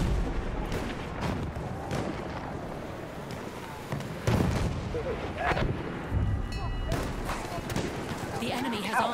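Battlefield 1 artillery strike: deep booming impacts and rumbling blasts land at intervals, heavy and mid-distance, over continuous battlefield noise and gunfire.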